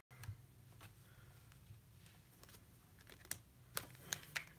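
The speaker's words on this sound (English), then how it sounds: "Okay, and this will be our last shuffle. Let me cut the cards." Tarot cards are shuffled and cut in a quiet room, making soft, faint riffling and papery ticks that end in a few sharper snaps and taps. No one speaks.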